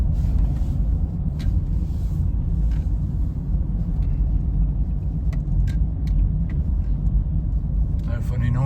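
A Honda Jazz automatic car rolls slowly around a yard, its engine a steady low rumble and road hum close by, with faint clicks and brief light sounds on top.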